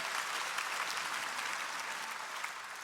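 A live comedy show audience breaks into brief, dense applause, a steady wash of many hands clapping at even loudness with no voices over it.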